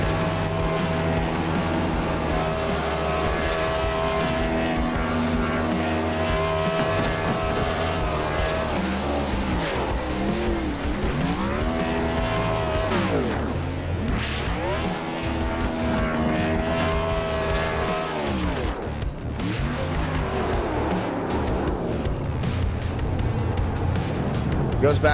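Simulated NASCAR stock car engines at Talladega in iRacing, a loud sustained engine drone with rising and falling pitch sweeps as cars pass, continuous throughout with some speech mixed in.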